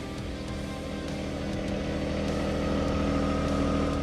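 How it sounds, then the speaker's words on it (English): Tractor with a backhoe attachment idling steadily while its outriggers push down to lift the backhoe's lower frame off the machine, a dense diesel drone that swells slightly in load, close and continuous with no talk. "Now we're going to use our outriggers to lift the bottom portion of the backhoe off"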